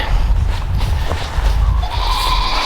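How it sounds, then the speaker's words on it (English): A Nigerian dwarf goat on a farm bleats loudly and close by in repeated wavering calls, over low rumbling handling noise, with no talk. "I thought that Dreamer would be the last Nigerian dwarf goat kidding this spring"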